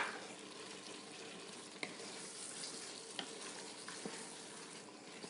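About a tablespoon of garlic sizzles in hot oil inside a pressure cooker set to sear while it is stirred, giving a quiet, steady hiss broken by a few sharp clicks of the spoon against the pot.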